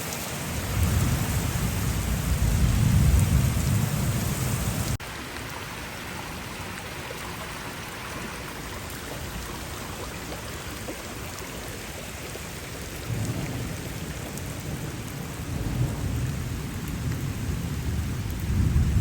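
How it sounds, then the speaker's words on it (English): A heavy thunderstorm pours steady rain across the whole stretch, with deep rumbling thunder swelling at the start and again toward the end, no voices present. "we have a crazy storm going on outside"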